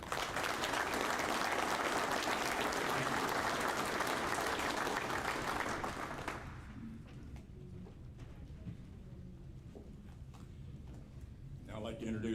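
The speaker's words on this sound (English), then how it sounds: "with a round of applause for everyone" Loud sustained applause fills a convention general session for about six seconds, then drops away to quiet room tone with faint scattered sounds.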